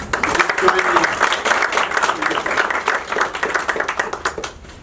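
An audience claps for a congressman at an event honoring Pakistani women, a steady round of applause that runs nearly the whole time, with voices mixed in underneath.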